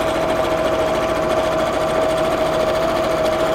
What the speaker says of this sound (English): Right, so I've sewn all the way around, left a gap in one side of the lining.